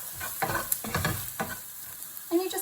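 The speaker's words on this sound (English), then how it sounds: "And you just want to stir your spices in and just let those onions take in those flavours." Onions with black pepper, salt and turmeric sizzle in a pan as a spoon stirs them, giving several scraping strokes over a steady crackle, close and moderately loud with no talking.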